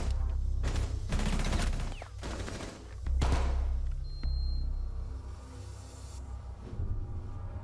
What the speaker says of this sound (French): Et Avaden qui se débarrassera de Ryanès avant d'enchaîner au pistolet sur Sinchinro.